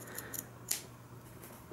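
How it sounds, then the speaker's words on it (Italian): Scissors snipping fabric for a face mask, corner margins trimmed in a few short crisp cuts, close by over a steady low hum. "Tagliamo anche un margine qui sull'angolo superiore, sull'angolo inferiore."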